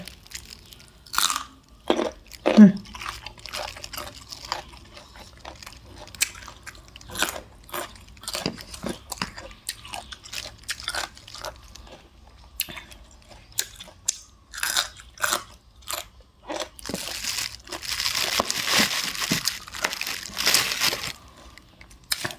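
Loud, crisp crunching bites and chewing of firm, juicy sour mango, close up, in irregular bursts with short pauses between them.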